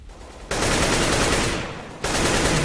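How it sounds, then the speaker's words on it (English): Gunfire in a collegiate CS:GO match: two loud, close bursts of rapid shots separated by a brief fading gap. "Suzner gets the headshot onto Blez."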